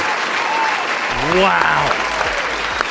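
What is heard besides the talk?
audience applause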